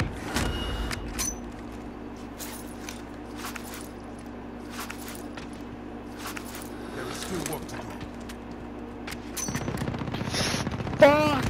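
Machine gun fire in Call of Duty Warzone, with repeated bursts of shots under steady background game noise and a louder burst near the end, while players talk over it.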